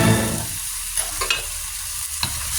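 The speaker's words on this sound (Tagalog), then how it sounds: "Kunting halo. Mikos-mikos lang natin." Chopsuey being stirred and tossed in a pan, a steady frying sizzle with a few scraping spoon strokes over about two and a half seconds, close and moderately loud, no voices.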